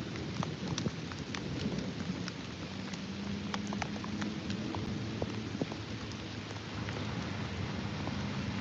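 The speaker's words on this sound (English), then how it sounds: "there went the thunder and lightning, guys" Steady rain falls on surfaces outdoors in a park, with soft low rumbles of distant thunder rolling underneath throughout.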